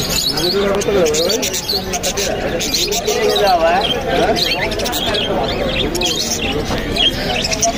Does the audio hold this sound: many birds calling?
yes